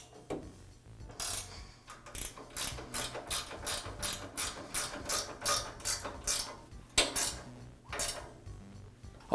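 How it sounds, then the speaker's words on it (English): Bolts holding the guide rod of an MK Diamond tile saw are tightened with a ratchet, giving a rapid run of close metallic clicks in bursts, with brief pauses between strokes. "now I'll go ahead and tighten up the bolts that secure the guide rod"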